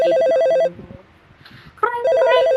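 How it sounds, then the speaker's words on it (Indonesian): A telephone rings in a hotel room with a bright electronic trilling ring, sounding loud and close in two bursts separated by a short quieter gap. "Tidak berapa lama telepon itu pun berbunyi lagi"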